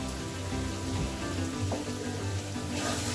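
Spice paste (masala) for an egg curry fries in a pan with a steady, close crackling sizzle that holds evenly throughout, with no voices.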